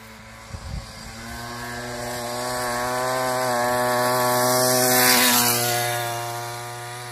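A motorbike engine approaching on a rough rural track, its buzzing drone rising steadily in loudness and pitch as it nears and revs, peaking close by before easing slightly, with a brief knock early on.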